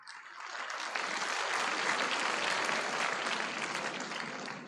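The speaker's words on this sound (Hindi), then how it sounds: "आपने तो ताली बजा दी" A conference audience of educators in New Delhi applauds steadily for almost five seconds, a dense, even wash of clapping with no voices over it.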